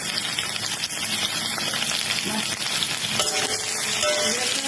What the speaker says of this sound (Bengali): সব রসুন, পেঁয়াজ, আদা, লঙ্কা, টমেটো সব একবারে ভালো করে প্রথমে ভেজে নিচ্ছিলাম